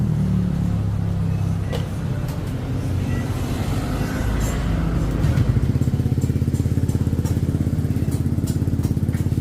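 A motorcycle engine fitted with a BOMX exhaust muffler idles with a low, rough rumble, then settles into a steady, rapid, throbbing pulse, close and loud.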